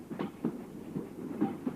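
A moving train gives a steady low rumble with a regular clickety-clack of wheels over rail joints, several evenly spaced beats in under two seconds, heard alone with no voices.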